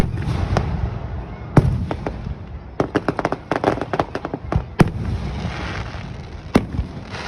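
Fourth of July fireworks in Gouverneur, New York, crack and pop in a rapid series of sharp bursts. Some land in quick clusters, and a steady rumbling background sits underneath.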